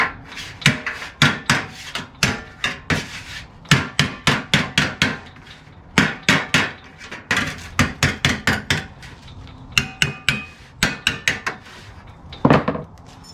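Sharp metallic hammer blows strike sheet metal held on a dolly while a belly pan is shaped, coming in quick bursts of several hits separated by short pauses, close and loud with no talking.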